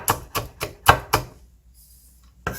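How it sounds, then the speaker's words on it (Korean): A knife chops green cheongyang and red chili peppers on a board: five quick, crisp cuts in an even rhythm, a short quiet pause, then one more chop close by. "자, 청양고추하고 홍고추 하나씩 그리고 홍고추는 절반만 넣고요. 이렇게 썰어주세요."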